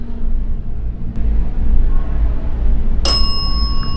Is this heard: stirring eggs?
no